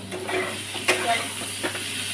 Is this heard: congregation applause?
no